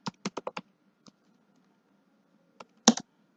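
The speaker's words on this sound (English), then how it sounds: "going to type here eth wallet" Keys clicking on a computer keyboard while a crypto wallet address is entered: a quick burst of five keystrokes, a lone tap, then a few more scattered clicks, close and crisp in a quiet room.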